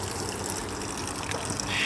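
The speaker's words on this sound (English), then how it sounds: "Just draining out any water in that gray water tank there too right now." Water drains from a travel trailer's gray water tank while it is being winterized, a steady rushing gush at an even level throughout, close by and with no speech.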